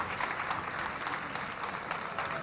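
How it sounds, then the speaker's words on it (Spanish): Audience applause for two speakers at a Spanish-language talk on the future of talent and AI, a steady, fairly faint wash of clapping throughout, with no clear talk over it. "le damos un fuerte aplauso a los speakers"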